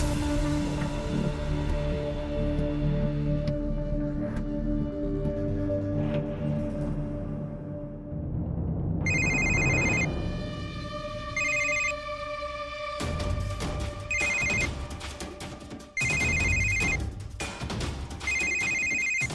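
A telephone rings in a Marathi television drama scene. The bright electronic ring comes in repeated bursts over the second half, after a quieter stretch of background sound.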